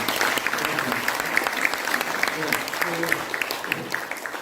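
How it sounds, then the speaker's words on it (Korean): Steady, dense applause from a crowd, lasting throughout with even intensity and a few louder claps standing out. "네 분께 박수로 부탁드리겠습니다"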